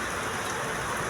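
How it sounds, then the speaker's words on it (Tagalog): Heavy rain pours down steadily at midday, a dense, even hiss of water falling on surfaces, continuous and close with no gaps or voices. "Ang lakas po ng ulan."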